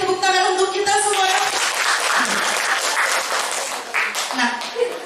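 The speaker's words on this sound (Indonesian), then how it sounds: "sekali lagi tepuk tangan untuk kita semua" An audience at a junior high school event in Batang, Indonesia claps together in sustained applause, a dense crackle of hands with a few voices calling out over it.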